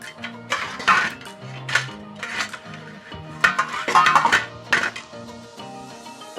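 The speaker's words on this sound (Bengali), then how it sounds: "গুড়টাকে আমি একটু গ্রেট করে নেব গ্রেটারে গ্রেটারে গ্রেট করে নিলে কিন্তু গুড়টা খুব সহজেই গলে যাবে" Jaggery being grated on a kitchen grater, shredded fine for a wild hog plum pickle: a run of quick rasping, scraping strokes in an uneven rhythm, close and moderately loud over a faint steady tonal hum.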